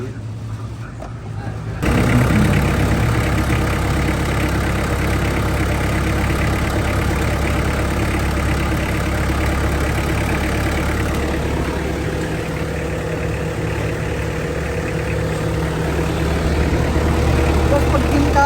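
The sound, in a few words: L300 van engine running loudly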